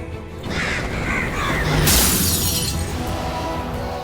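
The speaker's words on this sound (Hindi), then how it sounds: "शीशे का गुलदान हवा से गिरकर टूट गया" A glass vase crashing and shattering in a dramatic TV scene, a sudden bright burst of breaking glass with tinkling debris over a dense background of music and ambience, loud and close.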